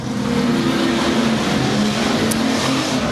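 Street stock race cars roar around a dirt track at a feature race in Manjimup, a loud, steady mid-pitched engine drone sweeping past without a break.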